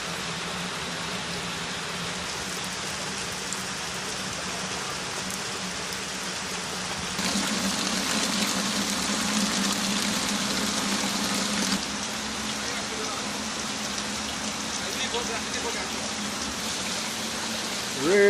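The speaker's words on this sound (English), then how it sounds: "please listen to the sound of the water, the rain" Rain falls steadily on the plants of a small farm in rural Jamaica in May, a continuous soft hiss that swells briefly louder partway through, with no voices.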